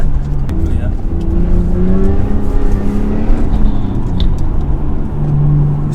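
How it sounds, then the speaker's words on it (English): A Lexus IS200 accelerates while being driven, its engine note rising in smooth pitch sweeps with a steady low rumble underneath, heard from close by inside the car. "I really like the sound of this car."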